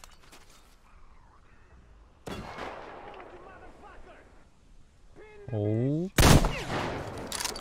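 A gun fires in Metro Exodus: scattered sharp bangs, then a loud, sudden blast near the end, set among game sounds and a brief spoken exclamation.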